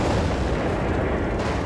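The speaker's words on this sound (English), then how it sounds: "Harmless explosion." A loud, dense explosion from the VR puzzle game I Expect You to Die, a sustained roaring blast that fills the whole moment without letup.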